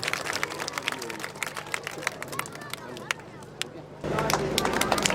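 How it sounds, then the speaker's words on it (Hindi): A crowd claps at a village award and talent-honouring ceremony: brisk, scattered hand claps over murmuring voices, with a burst of louder, rougher noise in the last second. "जोरदार तालियां बजाएं एक बार, जोरदार तालियां"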